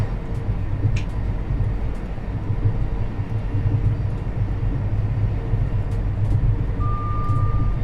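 A Thameslink Class 700 electric train in Train Sim World 3 runs over a viaduct, a steady rumble of wheels and motors with faint clicks and a brief tone, no talk.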